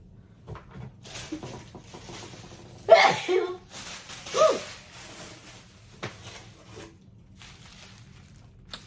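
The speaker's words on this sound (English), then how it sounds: "Oh, I gotta sneeze." One sudden, sharp sneeze bursts out, followed by a softer breathy exhale amid quiet room noise.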